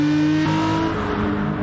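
Race car engine from the Gran Turismo 5 video game at Monza during a 500 km endurance race, a loud sustained drone with a shifting pitch, rising once and then holding steady.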